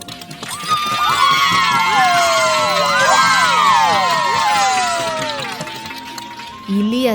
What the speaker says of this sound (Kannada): ನದಿ ದಂಡೆಯಲ್ಲಿ ಇದ್ದ ಎಲ್ಲ ಪ್ರಾಣಿಗಳು ತುಂಬ ಖುಷಿಯಿಂದ ಕೂಗಿ ಜೋರಾಗಿ ಚಪ್ಪಾಳೆ ತಟ್ಟೋಕೆ ಶುರು ಮಾಡುತ್ತೆ